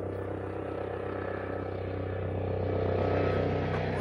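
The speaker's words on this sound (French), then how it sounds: "Il y a un hélicoptère, là, il doit y avoir un feu." A helicopter passes overhead, heard as a steady low mechanical drone that swells gradually louder toward the end, with no one speaking over it.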